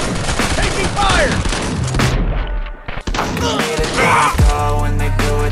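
Rapid gunfire bursts and heavy thuds from a Modern Ops shooter video game firing an M16A2, dense and loud throughout with a brief drop near the middle, over game music and background voices.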